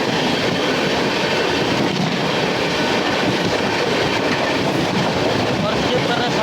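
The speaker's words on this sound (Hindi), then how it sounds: "सामने से आ रही है नई दिल्ली ललित ग्राम वैशाली एक्सप्रेस।" The New Delhi–Lalitgram Vaishali Express passing near Panki Dham station, a loud, continuous rumble and rattle of rail wagons with rhythmic clickety-clack of wheels, close by and unbroken throughout.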